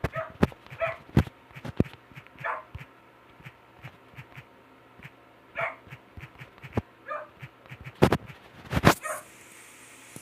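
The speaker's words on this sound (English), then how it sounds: "Dog, be quiet!" A household dog barks in short, sharp bursts scattered through the clip, some single and some in quick pairs, fairly close and loud against a quiet room with a low steady hum.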